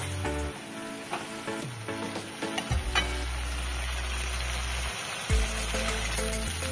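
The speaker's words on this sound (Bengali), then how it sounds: "মশলাটা একটু ভালো করে কষিয়ে নিতে হবে।" Spice paste for a rui fish curry fries in a pan, a soft bubbling sizzle broken by a few sharp scrapes and clatters of a spoon, close by with a low hum underneath and no voices.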